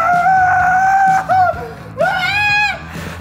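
A person screams and wails loudly in strained, pitched bursts, with a brief break around the middle before a rising scream resumes, set against a noisy indoor background.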